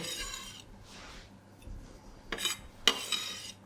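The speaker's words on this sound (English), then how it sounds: "So we'll give this a good mix." Chicken and parsley filling being mixed in a bowl with a utensil, a few scraping stirs followed by sharper clinks of metal against the bowl, close and fairly quiet.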